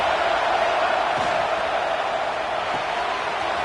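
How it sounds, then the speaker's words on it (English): A college football stadium crowd roars steadily and loudly as the home fans try to keep Illinois pinned deep in its own end, a dense unbroken wash of cheering with faint commentary underneath. "this crowd trying to help keep them there."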